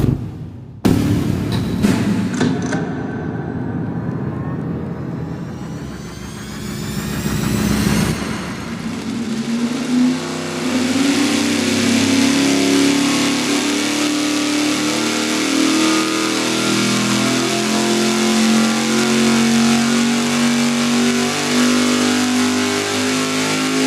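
An engine on a dyno, fed by a budget fuel pump, starts up, then revs hard and holds a loud, sustained high-rpm roar that wavers slightly in pitch.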